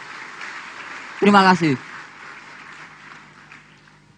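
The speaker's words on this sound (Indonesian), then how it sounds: "Tepuk tangan untuk beliau" Applause from an audience at a company success event at PT NASA's office, a faint wide wash of clapping that continues under and after a short spoken thank-you.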